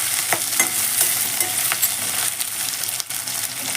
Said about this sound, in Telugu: ఉల్లిపాయలతో పాటు వాటిని కూడా మంచిగా వేయించుకోండి